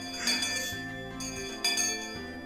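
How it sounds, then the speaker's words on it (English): A hand-waved school bell rings in a Higurashi visual novel, giving bright metallic clinks in a couple of quick bursts over a sustained ringing tone, alone without talk. "The principal waved around the bell that served as the school chime."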